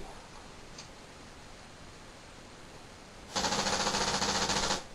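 A paintball gun set off by a red dot laser tripwire fires a loud, rapid burst of shots that starts abruptly after a few seconds of quiet room tone and runs to the end.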